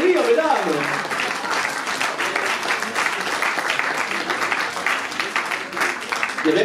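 Crowd at a fashion show runway event in Dijon cheering, whistling and clapping loudly and continuously, a dense wash of applause throughout with a brief voice at the start.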